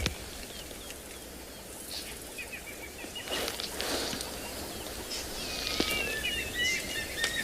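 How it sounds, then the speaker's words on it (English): Birds call and chirp across open bushland, including a Wahlberg's eagle, with fluttering wingbeats rising in the middle and bright whistled calls fairly close, over a soft outdoor background. "Can hear a lot of bird activity."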